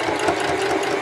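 A Singer 5554 heavy duty sewing machine stitching through folded, four-layer duck cloth, a steady, fast mechanical whir with a rapid clatter of the needle, loud and close, with no talking.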